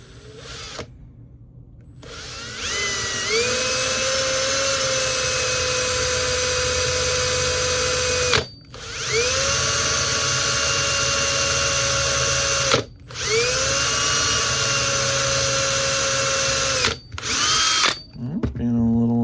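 Power drill boring into a die-cast metal Hot Wheels Camaro toy car, a loud close whine that runs steadily for several seconds, stopping and restarting three times, with a brief stop near the end.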